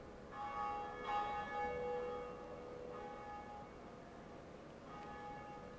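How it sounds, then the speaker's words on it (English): A large tower bell in the game Dark Souls rings out with slow, resonant strikes whose sustained metallic tones linger and fade, heard at a moderate distance with no talk. "It's just a miracle that the tower doesn't collapse from the weight of that bell rocking back and forth."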